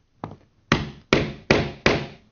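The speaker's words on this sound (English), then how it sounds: "and hammer, and it rolls the metal down over the socket" A metal snap setter tool is struck by a hammer to roll a snap's metal over its socket: one light tap, then four sharp, evenly spaced blows, close and loud with no talking.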